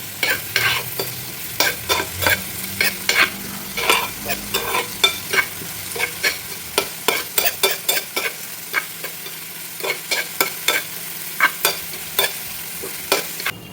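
Dried prawns fry with curry leaves in coconut oil in a pan under a steady low sizzle, broken by regular, rhythmic scraping strokes of a spoon stirring through them.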